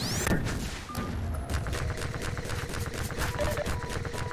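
Rapid gunfire in the video game Half-Life 2, with a dense fusillade of sharp shots and thuds continuing steadily throughout and little pause between them.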